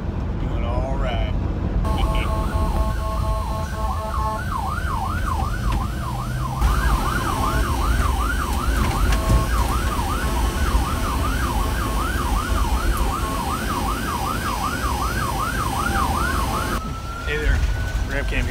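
An ambulance siren wails and yelps continuously from inside the moving, bumpy ambulance, loud over heavy road rumble and cabin vibration.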